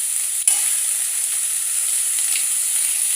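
Tomato, chilli and onion sauté in hot oil for a radish chutney, giving a steady close sizzling hiss with a brief clank near the start.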